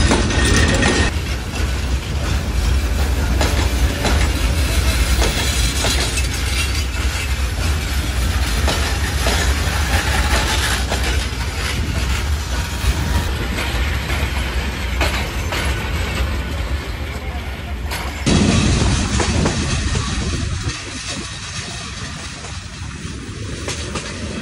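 Intercity Jayantika Express rolls past the halted Paharika Express on the Chittagong–Sylhet line, a loud, sustained rumble with rail clatter and squeal that eases and drops off near the end.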